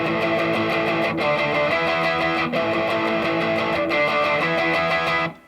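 Electric guitar playing a power chord riff at full speed, dense driving strummed chords with brief breaks at chord changes, loud and continuous.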